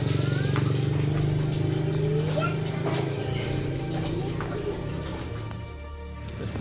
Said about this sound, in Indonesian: Mesin, tuh, mesin.